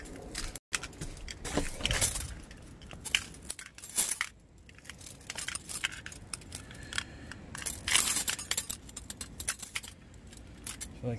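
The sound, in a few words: rummaging through metal bolts for wind turbine assembly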